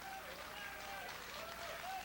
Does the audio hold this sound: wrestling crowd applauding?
yes